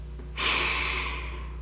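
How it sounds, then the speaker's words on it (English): A single slow, airy inhale through the nose or mouth, a soft breathy rush that swells and gradually fades, close and alone. "notice your breath, following it in"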